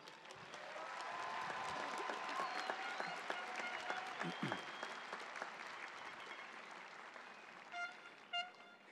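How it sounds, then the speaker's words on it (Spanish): A high school graduation crowd clapping loudly and steadily for the class, dense applause with scattered voices and cheers, then fading as horns toot twice near the end. "Demos de todos un gran aplauso a esta clase,"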